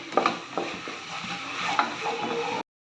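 Onion with two tablespoons of ginger-garlic paste sautéing in a pan while being stirred, giving a steady close sizzle with scraping clicks of a spoon against the pan, no voices.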